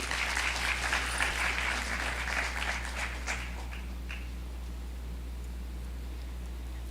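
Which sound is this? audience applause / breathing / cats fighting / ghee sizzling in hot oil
audience applause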